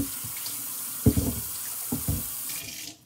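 Tap water runs steadily into a kitchen sink while dishes are washed up after cooking Filipino noodles, with a few clattering knocks of utensils, close and alone, before the flow stops at the end.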